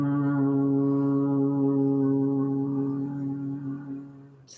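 A higher-pitched steady humming exhale of bhramari bumblebee breath, one sustained buzzing tone held for about four seconds, close and clear, then fading at the end.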